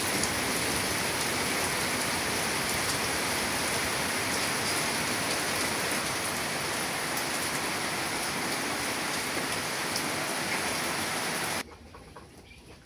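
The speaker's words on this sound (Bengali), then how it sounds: "বৃষ্টি পড়তেছে" Steady rain, the first shower of the Falgun season, patters continuously on surfaces in a rural home kitchen, a dense, even hiss that stops abruptly near the end.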